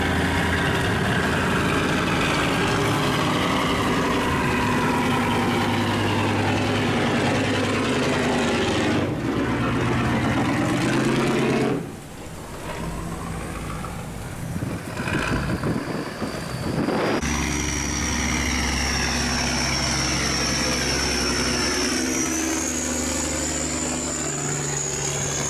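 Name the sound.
rice cargo boat engine running on river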